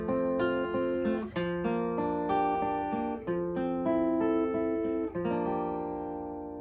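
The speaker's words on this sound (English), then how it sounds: "This is my arrangement for a solo fingerstyle guitar" A solo fingerstyle guitar plays the intro of a song in an F-based arrangement. Plucked notes and chords ring out clearly and alone at a moderate, unhurried pace.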